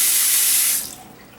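Water pours loudly from a kitchen or bathroom faucet with a bright, hissing rush, then the flow is shut off partway through and only a faint quiet remains; no voices.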